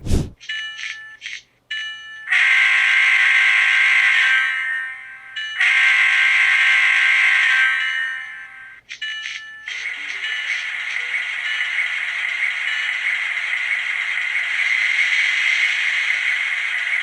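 Electronic bells and buzzing tones from a model railroad DCC sound decoder playing SD9 diesel locomotive sounds, in bursts, stopping and restarting, then a steady hissing drone carries on to the end.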